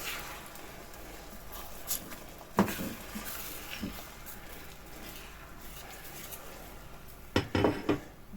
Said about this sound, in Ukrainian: І тепер відправляємо це все у сковороду і починаємо помішувати